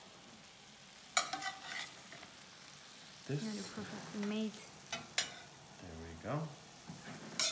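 Corn cooking in a pan alongside white fish fillets in brown butter gives a steady close sizzle and frying hiss with occasional stirring scrapes, while a person talks intermittently over it.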